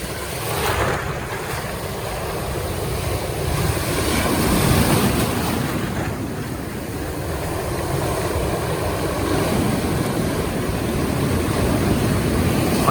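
Waves roll in around a boat at a river mouth where boats launch, giving a steady, loud wash of surf and water with gusty wind buffeting the microphone across the whole stretch.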